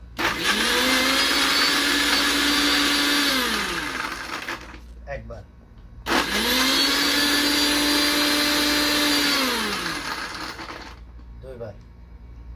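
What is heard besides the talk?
blender blending watermelon for juice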